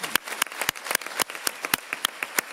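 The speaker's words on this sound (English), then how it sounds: "Big applause." Scattered hand clapping from a small group, irregular claps over a couple of seconds, fairly close and moderately loud.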